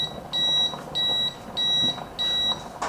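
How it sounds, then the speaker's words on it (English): A baby food cooker beeps when finished: four sustained high electronic tones, evenly spaced with short gaps, clear and close in a quiet kitchen. "I'm gonna leave this cook up until I hear my baby cook beep"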